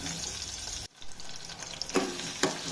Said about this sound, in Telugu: మంచి బ్రౌన్ కలర్ వచ్చేదాకా ఫ్రై కావాలి ఉల్లిగడ్డ పచ్చిమిర్చి